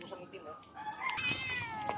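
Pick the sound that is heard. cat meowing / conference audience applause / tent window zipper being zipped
cat meowing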